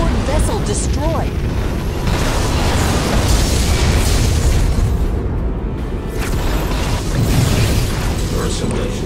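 Borg vessel blown apart in the Star Trek Legacy space battle game, a loud continuous rumbling explosion with dense crackle and boom layered under a synthetic voice announcement.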